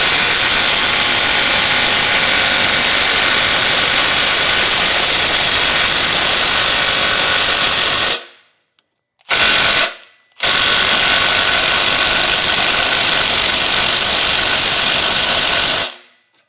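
Impact wrench loosening catalytic converter bolts on an 80 Series Land Cruiser: a loud, continuous rattling hammer that cuts out abruptly, gives one short burst, then runs steadily for several more seconds before stopping.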